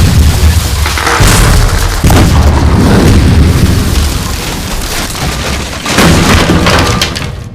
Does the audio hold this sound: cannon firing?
yes